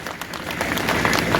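A crowd at a student rally in Suratgarh, Rajasthan gives dense, steady applause for the police administration, a brief continuous burst of clapping with no speech over it.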